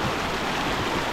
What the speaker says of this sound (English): It is rushing water. Very dangerous.